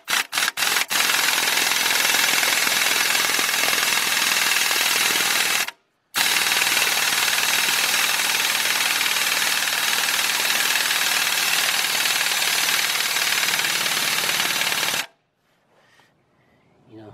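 An impact gun hammers on the timing belt tensioner of a 2002 Dodge Stratus with a 2.4 engine, giving a loud, close, continuous rattle in two long bursts separated by a brief pause before it stops.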